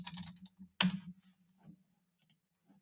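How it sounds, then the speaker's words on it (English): Typing on a computer keyboard: a burst of quick clicks, one sharp louder keystroke, then scattered lighter taps and pauses over a low steady hum, close by with no talking. "I'm just typing biggest game franchises here."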